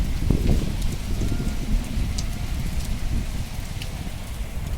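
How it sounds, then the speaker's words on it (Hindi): Heavy rain pouring steadily, a dense continuous hiss with occasional louder drops spattering nearby. "देखिए कितनी तेज़ बारिश हो रही है"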